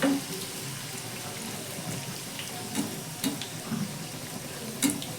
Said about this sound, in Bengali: এই তেলের মধ্যেই দেওয়া হয়ে যাবে, আর একসঙ্গে অনেকগুলো ভাজাও হয়ে যাবে।